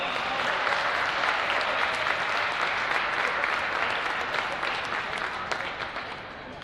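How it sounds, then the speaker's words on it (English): Audience applause at a high school football game for Manchester West and Laconia, a broad, sustained crowd clapping that stays full and even before easing slightly toward the end. "Please join me in giving them a big round of applause."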